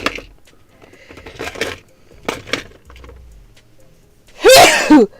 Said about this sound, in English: Uh-oh, my sneeze.